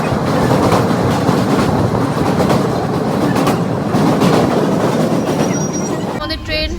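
A passenger train runs on its rails with a loud, steady roar and rhythmic clatter from the wheels. The noise holds close and constant, and near the end a brief higher tonal sound cuts in.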